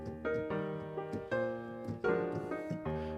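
Piano chords from a song ring out in sequence, several struck notes sustaining and overlapping, played clearly and softly with no voices.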